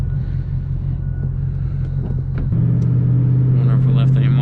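A Ford Mustang GT 5.0 with a Coyote V8 (S197) idles with a loud, deep rumble, then the revs step up to a stronger, steadier drone partway through, heard close and up front.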